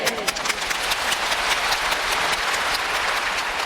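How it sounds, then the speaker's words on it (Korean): Church congregation applauding during a sermon, a dense sustained wash of clapping at steady loudness throughout, with no speech over it. "지금은 여러분 박수를 치지만"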